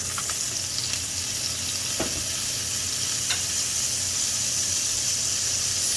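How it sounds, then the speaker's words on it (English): Water poured into a hot frying pan of sauce sizzles and hisses loudly and continuously, with a few sharp crackles breaking through the dense steam noise. "there's not enough sauce, so we're going to add a little bit of water."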